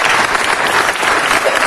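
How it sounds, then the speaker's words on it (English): A room full of people at a Los Angeles city council meeting claps in a loud, dense round of applause, steady throughout. "Let's give her a round of applause."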